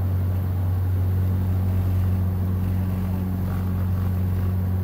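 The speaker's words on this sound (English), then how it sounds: "might find the Saab 340 a little loud and buzzy" Steady, loud turboprop drone inside the cabin of a Saab 340 in flight, a constant buzzy engine hum with strong low tonal bands, continuous throughout with no talking.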